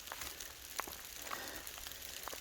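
Fine sleet pattering softly and steadily on the Appalachian Trail, with scattered light ticks of pellets striking a surface nearby.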